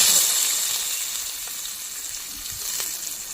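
Spices and onion fry in oil with a steady oily sizzling hiss, close and even, with a few faint clinks over the bubbling.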